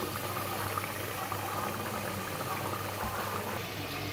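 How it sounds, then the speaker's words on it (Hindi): Deghi chicken tomato masala with added water simmering over medium heat, a faint steady bubbling and hiss that runs evenly throughout with no voices. "पानी ऐड करें और मसाले को थोड़ी देर जो है वो मीडियम आंच पर पकने दें।"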